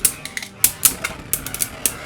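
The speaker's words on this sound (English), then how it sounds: "Yeah, Ifritter's way quicker. Not really making contact" Beyblade spinning tops in a battle stadium give off a rapid scatter of sharp plastic clicks and taps, irregular and close, with light scraping between the hits.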